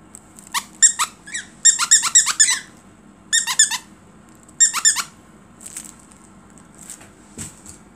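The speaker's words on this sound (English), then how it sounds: "I like this toy because you've got rope, you got crinkly stuff, and it squeaks." A dog plays with a rope toy that has crinkly material and a built-in squeaker. Bursts of rapid, close, high squeaks come in clusters, with softer squeaks and quiet shuffling between them.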